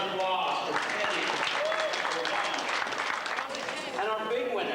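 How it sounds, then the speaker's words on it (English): Sustained applause and cheering from a crowd at a tattoo convention in Conroe, Texas, loud and steady, with an announcer's voice over it. "please, a big round of applause for Teddy."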